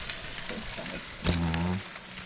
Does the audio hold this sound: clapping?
no